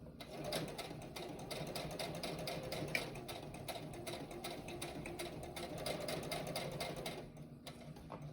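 Sewing machine running a back stitch on a paper envelope, a steady rapid mechanical clatter at moderate volume that continues almost the whole time, briefly easing near the end, with no talking.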